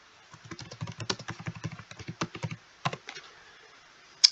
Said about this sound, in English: we'll type in the name of the song, and that'll get it right away